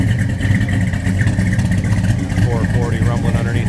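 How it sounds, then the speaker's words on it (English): A 1973 Dodge Charger's 440 V8 revs up close and loud, a deep throaty rumble with rising and falling pitch as the throttle is blipped, while someone talks over it. "Nice throaty sound out of that 440."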